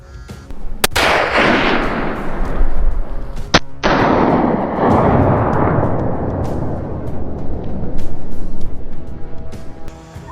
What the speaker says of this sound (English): With a single shot, the beast collapsed on the spot.